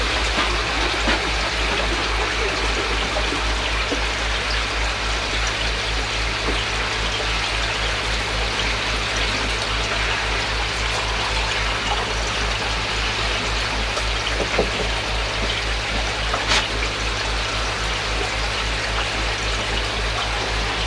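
Water pours steadily from a Bakki River filter outlet into a pair of tights, a loud continuous rushing and splashing that holds unchanged throughout with no voices.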